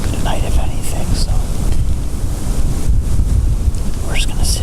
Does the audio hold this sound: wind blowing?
yes